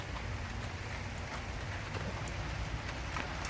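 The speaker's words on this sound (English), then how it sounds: "I hope it rains like this." Rain falling steadily in California, a dense, even patter of drops on surfaces close by, soft and continuous with no voices.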